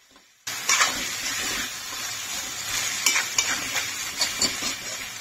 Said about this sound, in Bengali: তো বানাচ্ছি এখানে রান্নাঘরে কষা কষা চিকেন